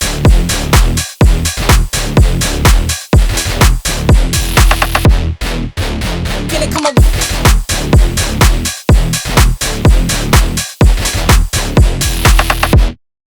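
Vital synth brass bass patch playing with drums, gritty bass stabs over thumping kicks and snappy hits in a driving groove, loud and dense, cutting out abruptly at the end.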